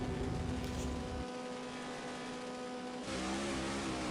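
A drag car runs in the No Limit Drag Racing 2.0 video game, giving a steady, fairly quiet engine drone with one gear change heard as a dip and then a rise in the engine note.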